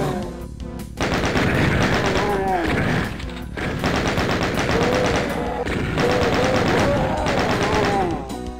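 Weapons fire in DOOM in rapid continuous bursts, loud and dense, with short pauses between volleys, heard without voices.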